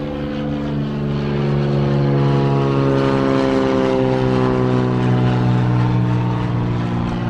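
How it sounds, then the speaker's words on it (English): A propeller-driven float plane flies over Anchorage, Alaska, its steady droning engine holding loud and continuous for several seconds as it passes fairly close overhead, with no talking. "there's all these float planes and private aircraft"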